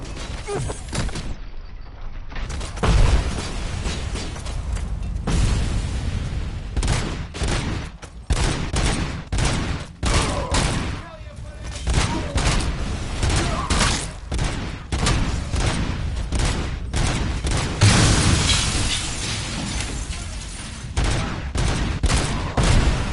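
Dense bursts of gunfire from real bullets in a violent video game, rapid overlapping shots crackling loud and close with little pause, the shooting continuing throughout.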